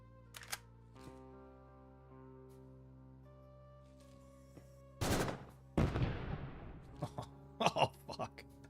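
Loud bursts of gunfire around an exploding barrel in the sci-fi shooter Quasimorph, a heavy blast followed by a rattling volley and a few later sharp shots, over a droning game soundtrack.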